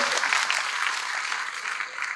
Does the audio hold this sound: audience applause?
yes